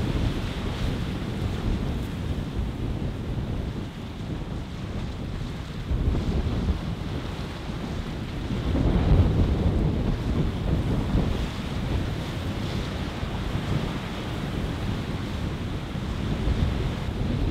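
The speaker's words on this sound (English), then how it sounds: "I really hope that you can understand me despite the strong wind and the sounds of the waves" Strong wind buffets the microphone on the Norwegian coast while ocean waves surge and crash nearby, a loud, rumbling roar that swells and eases without any voices.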